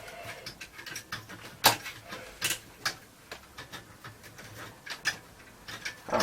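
Small screws are backed out of a Sony SL-C20 Betamax recorder, giving sparse, crisp ticks and clicks at close range with quiet gaps between them.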